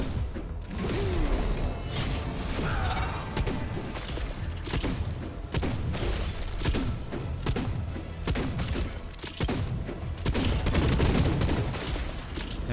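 A dense, continuous barrage of rapid blasts and gunfire-like bangs with whooshes mixed in, loud and sustained throughout with no pauses, from a boss fight in the video game Wayfinder.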